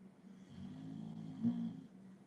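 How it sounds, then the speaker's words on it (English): A person snores softly with a low, rumbling drone that swells slightly midway, heard close and alone in a quiet room. "You hear a snoring beauty over here."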